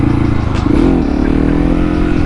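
A motorcycle engine, a 701, rumbling and revving steadily at close range during a wheelie attempt in crosswind, with a continuous loud drone and a slight swell in the middle.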